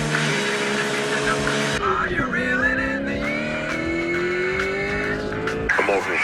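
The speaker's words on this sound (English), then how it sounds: "This is when we're treated to a car chase that takes place on a straight road in the middle of nowhere at the dangerous speed of 45 miles an hour." A car chase from the film Dark Measures: an old car drives along a straight rural road at moderate speed, its engine droning steadily and loudly with tire noise, while a film score plays.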